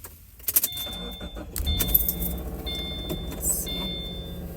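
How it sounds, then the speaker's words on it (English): A car being parked in the dark, with low engine rumble and scattered clicks and jingles like keys, a few louder bumps near the start, close and fairly quiet throughout. "Let me see if I can talk while I park my car"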